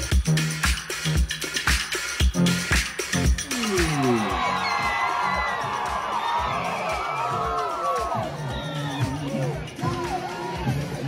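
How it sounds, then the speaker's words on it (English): Crowd at a Kennesaw State University football game applauding and cheering for Dr. Ross, a burst of loud claps giving way to whoops and shouts from many voices spread across the stands. "Let's give a big round of applause to Dr."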